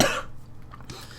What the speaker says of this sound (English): It seems whenever I talk for a long period of time, I can't help but cough.